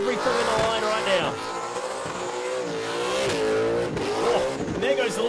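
A burnout car's engine screams at high revs, loud and sustained with rising and falling pitch, mixed with tyre squeal and a commentator's voice over the top.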